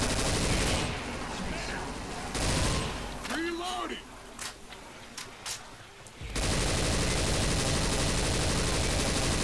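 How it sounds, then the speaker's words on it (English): Sustained automatic gunfire from a machine gun in the Left 4 Dead 2 zombie shooter game, loud bursts filling the start and end with a quieter stretch mid-clip where a voice speaks. "I love this gun. You could just sit here and open fire."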